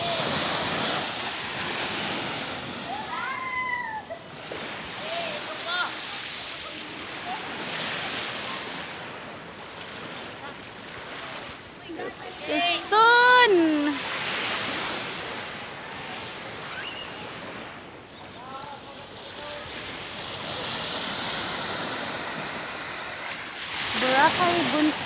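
Sea waves wash onto the shore at Boracay beach in a steady, continuous roar mixed with wind buffeting the microphone. Voices talk over the surf in places.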